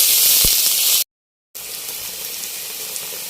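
Chopped onion sizzles loudly in a hot pan with garlic and green chili, a steady bright hiss broken by a brief half-second gap before resuming just as strongly.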